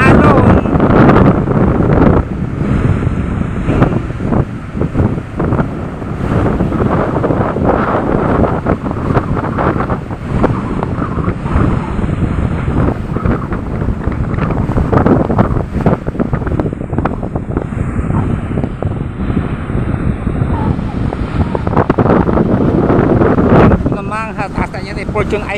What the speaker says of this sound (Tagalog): baka mahagip tayo ng malakas na hangin at malakas na alon